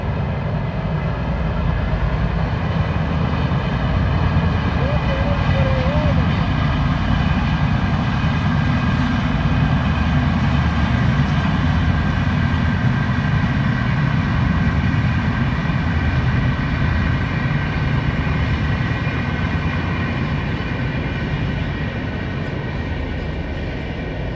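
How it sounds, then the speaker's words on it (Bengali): A train rumbles steadily past, a loud continuous roar of engine and wheels that holds for the whole stretch without pause. "আমাদের গার্ডেন দিয়ে ট্রেন যাচ্ছে।"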